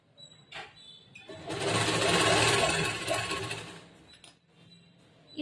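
Sewing machine stitching a boat-neck blouse: a close, steady mechanical whir rising for about three seconds, framed by faint handling clicks.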